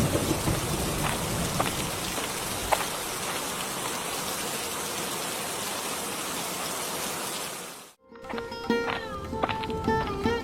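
Rain pours steadily in a Bengali village cartoon, a dense even hiss with a few sharp drop hits. It fades out near the end and gives way to a brief musical sting.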